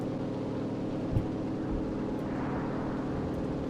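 A fighter plane engine in the World War II shooter game Enlisted, set over Normandy, drones as a steady low propeller hum throughout, with a few brief thumps over the continuous roar.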